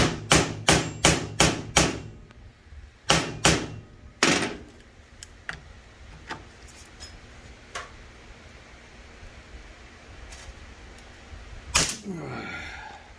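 A pry bar is struck again and again on a tight, stripped caliper bolt on a 2009 ZX6R motorcycle, a run of sharp metallic hits followed by scattered knocks and one loud final bang, close up.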